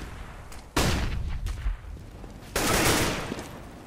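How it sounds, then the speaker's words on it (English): A flashbang grenade goes off in Counter-Strike on the de_mirage map during an ESL One match, with two loud, booming blasts about two seconds apart, each trailing into rumbling noise, with no voices. "I'm throwing a flashbang."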